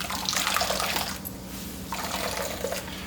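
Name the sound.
squeezing coconut milk out of grated coconut pulp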